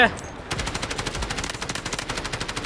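Rapid automatic gunfire in the video game Delta Force, a loud, steady burst of evenly spaced shots that starts after a brief pause and runs continuously to the end, close and dominant.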